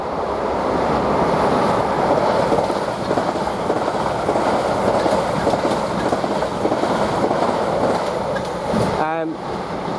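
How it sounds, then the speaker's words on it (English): A passenger train from Weymouth to London Waterloo rushes through Basingstoke station as a loud, continuous broadband roar, with a short squealing screech near the end. "that was a passing train from Weymouth to London Waterloo"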